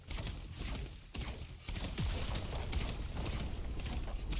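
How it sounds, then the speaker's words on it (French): Auto-attacks striking a turret during a League of Legends esports match make a dense, rapid run of impact bursts and booms, with a couple of brief breaks in the otherwise continuous volley. "Très relaxant ces bruits d'auto-attaque sur tourelle"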